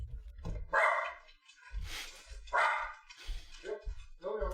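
A dog barks repeatedly in loud, close bursts over several seconds, with a few gruff, uneven pauses between volleys.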